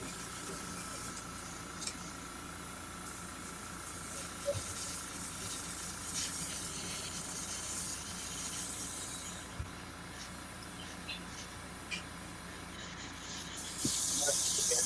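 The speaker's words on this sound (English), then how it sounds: "Let me clear out this airbrush real quick." An airbrush being cleared out, a soft continuous hiss of sprayed air running faint and steady throughout, with a brief louder burst near the end.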